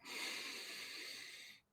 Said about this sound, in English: So let's all breathe in.